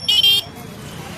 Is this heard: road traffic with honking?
yes